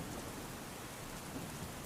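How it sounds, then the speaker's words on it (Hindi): Steady heavy rain pouring outside with a low, continuous rumble of thunder beneath it, even and unbroken throughout. "बाहर बारिश लगातार तेज हो रही थी"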